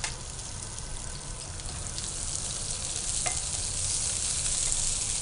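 Onion and capsicum strips frying in a pan of hot oil for a mini samosa filling, giving a steady, close sizzle with faint stirring throughout and no voices.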